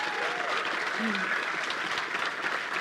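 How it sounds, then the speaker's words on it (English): A festival panel audience applauds steadily throughout, a dense wash of clapping with a voice briefly audible underneath. "Can we get a round of applause for the panelists today?"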